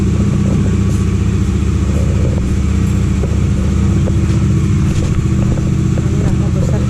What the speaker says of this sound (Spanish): Unas motos argentinas que van para Misiones también.